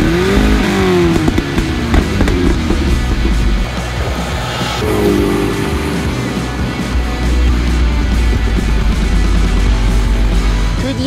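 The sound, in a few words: Matra Murena car engine driving on a test drive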